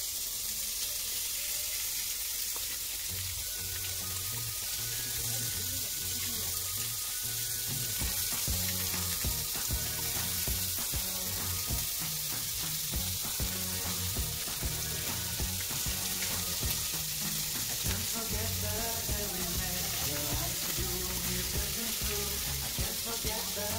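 Pork roll frying in a pan gives a steady, fairly loud sizzle for the whole stretch. Rhythmic low thumps of handling or pan noise run beneath it, and there is no talk.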